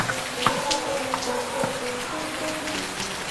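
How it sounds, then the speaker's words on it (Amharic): Rain falling steadily with a constant patter and scattered drips, some faint tonal sounds threaded through the background. "የዛሬው ዝናብ ያው እንደምታዩት ነው፣"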